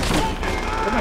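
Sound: machine gun fire in video game Call of Duty: World at War

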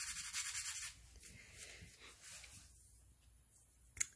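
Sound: rubbing a painted rock with a small piece of sandpaper

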